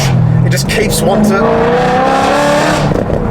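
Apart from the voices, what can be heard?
V8 car engine revving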